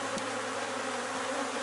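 Honeybees buzz steadily around a beehive frame in a small apiary, a dense, continuous hum close by with no voices.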